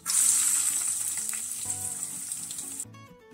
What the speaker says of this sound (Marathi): आता आपण हा कांदा पहिला भाजून घ्यायचा आहे।